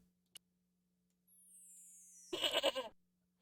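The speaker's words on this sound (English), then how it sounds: "Why did it make a goat noise at me?" A goat bleats in the point-and-click adventure game Broken Sword, a short wavering cry that comes in clearly and alone after a sharp click and a rising electronic tone.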